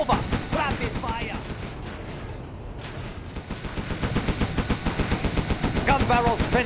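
Gatling tank in the Command and Conquer Generals video game firing its spinning-barrel gun in a dense, rapid rattle, mixed with game unit voice lines and other battle sounds.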